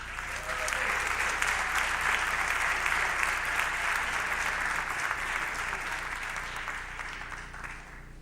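Applause from the audience at a school fall sports awards ceremony honoring the boys cross country team, a dense, sustained clapping from a large indoor crowd that slowly fades toward the end.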